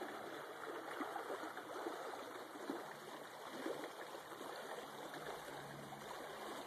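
Clean stream water flows through a forested floodplain property, giving a soft, steady rushing and trickling sound that stays even and fairly faint, with no voices.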